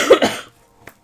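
A short, close cough in two quick bursts, followed by near silence and a faint small sound.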